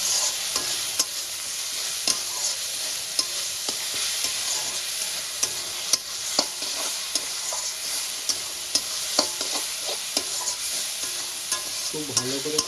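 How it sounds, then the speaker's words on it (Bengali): Ginger-garlic paste frying in hot oil, a steady close sizzle with regular ladle clinks and scrapes as it is stirred continuously, alone without voices. "এবার আমি কষিয়ে নেব।"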